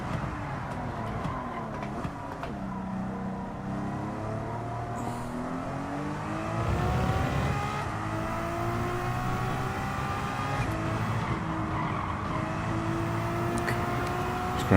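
In Gran Turismo 7, a race car engine drones steadily around the track, its pitch rising and falling through gear shifts and throttle changes, moderately loud and continuous with no talking.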